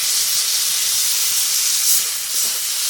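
Ground spices sizzling in hot oil in a pan: chilli, coriander and cumin powders with a pinch of asafoetida and a spoonful of gram flour, giving a steady, close, bright hiss with no voices.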